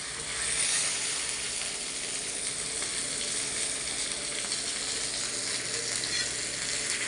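Spicy masala fish fries in a pan, both sides crisped, giving a steady, dense sizzle that stays loud and even from start to finish with no voices.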